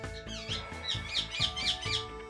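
A pet bird gives a run of repeated, rhythmic squawking calls that sound like cackling laughter, loud and close, about five bursts in quick succession.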